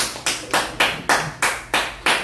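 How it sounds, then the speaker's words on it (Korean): Lecture audience clapping in a steady rhythm, about seven evenly spaced, sharp claps with short reverberant tails, close and moderately loud, with no talking. "박수 한번 더 쳐주시죠."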